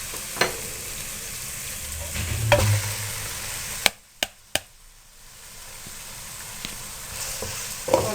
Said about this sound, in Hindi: अब आपने चिकन को खूब अच्छी तरह से फ्राई कर लेना है